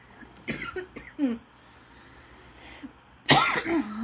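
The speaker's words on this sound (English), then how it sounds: "Sorry for the cough." A couple of short coughs near the start, then a louder, harsher cough burst toward the end, close and otherwise quiet.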